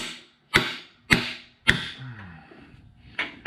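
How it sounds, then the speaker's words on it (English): A socket is struck to drive a bearing into an 8.5 10-bolt differential, giving four sharp, loud metallic hammer blows spaced about half a second apart, each followed by a short ringing decay. "we just drive this in until we hear the little change of the sound"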